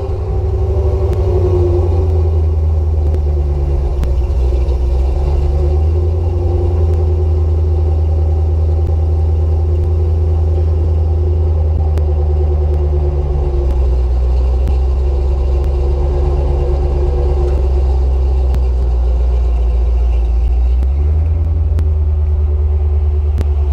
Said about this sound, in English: that is my 1991 Corvette, and I have not started that car in quite some time